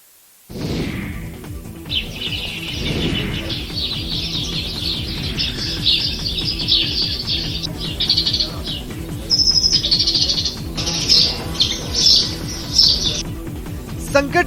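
House sparrows at nest boxes in homes in Etawah, Uttar Pradesh, chirp in a dense, continuous chatter of many overlapping calls, close and steady throughout.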